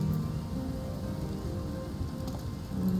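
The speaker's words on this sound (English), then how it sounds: "it's just so rainy out" Steady video game rain falls as a soft, continuous hiss of drops with a low rumbling bed underneath, even and unbroken throughout.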